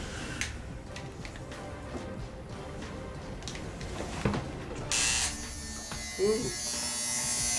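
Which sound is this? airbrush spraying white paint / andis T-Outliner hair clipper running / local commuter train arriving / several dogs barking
andis T-Outliner hair clipper running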